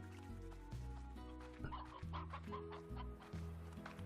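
Chickens clucking in the farming video game Slime Rancher, a few soft clucks heard over steady, looping background music with no talk.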